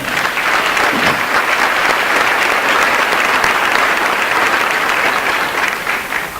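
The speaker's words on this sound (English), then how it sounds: "I think that deserves a round of applause." A graduation crowd at Northside gives a full round of applause, dense and loud, holding steady for about six seconds before easing slightly at the end.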